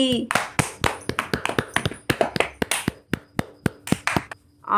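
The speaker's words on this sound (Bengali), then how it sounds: "তো একটা জোরে হাততালি হয়ে যাক" Crisp, separate hand claps ring out loudly in a cartoon, cheering the bird winners of a school running race. The claps come in an uneven rhythm of single strokes, mixed with animated voices talking.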